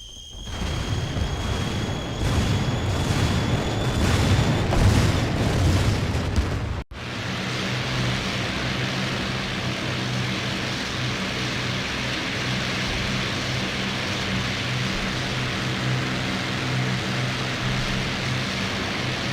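Aircraft bombs exploding in a flight video game mod, a deep rumbling detonation that swells for several seconds, then a sharp cut into a steady, roaring wash of noise.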